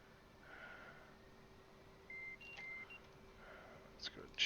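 A short electronic master-alarm tone in an F/A-18C cockpit in the DCS flight simulator, two brief steady beeps over a low cockpit hum, with faint breathing and clicks around them.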